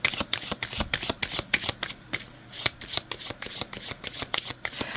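Tarot cards being shuffled by hand, a rapid run of crisp riffling flicks and soft rubs, close and fairly loud, with a brief lull partway through.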